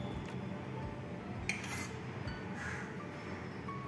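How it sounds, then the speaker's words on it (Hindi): A spoon scrapes and clinks against a bowl as curd goes into cooked rice, a few light metallic taps and a sharper clink amid soft, quiet kitchen handling. "अब मैं इसमें दही डालूंगी"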